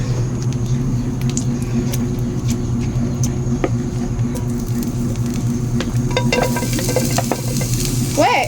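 Garlic sautéing in a pan for vegetables to go with fried fish, a steady close sizzle and hiss with occasional utensil stirring and clinks, growing busier toward the end.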